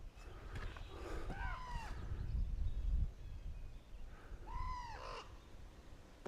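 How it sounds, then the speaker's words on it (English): Crows cawing and squabbling outdoors, two clustered bursts of harsh, repeated caws at moderate distance over a low background rumble. "It's like a crow fight outside."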